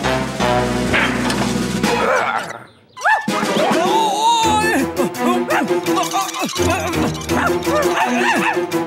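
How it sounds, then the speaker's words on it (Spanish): A dog in a children's TV show barks in a run of sharp, loud yips and whimpers, mixed with music and cartoonish sound effects. "El perro tiene a Robin Rotten atrapado arriba en el cartel"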